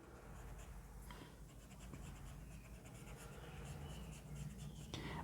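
Marker coloring a line green on a board during a geometry lesson, soft, continuous scratchy strokes heard up close and faint.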